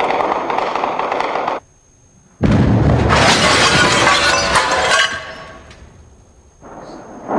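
Mortar shells hit a hotel in Sarajevo during fighting in 1992, with loud, close bursts of crashing, shattering debris broken by a short pause and then a long roar that fades.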